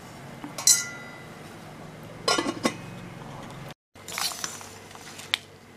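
A metal lid is set on a cooking pot of sambar, giving a few sharp clinks and rattles spread over several seconds against a quiet kitchen background.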